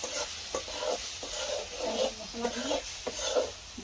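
Ridge gourd curry sizzles and fries in a pan while being stirred, with repeated scraping strokes over a steady close sizzle and no talk.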